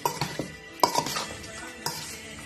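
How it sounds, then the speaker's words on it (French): Salted, spiced liboke ya ngulu being stirred and mixed, with a spoon clinking and scraping against the pot in a few sharp knocks between softer sloshing, close and fairly loud. "Nous sommes en train de mélanger"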